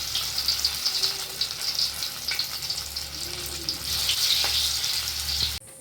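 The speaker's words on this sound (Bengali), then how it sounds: "এই তেলের মধ্যে একটু হালকা করে ভেজে নেবো।" Soybean chunks frying in oil, with a steady crackling sizzle close up and a few faint stirring scrapes, no talking, cut off abruptly at the end.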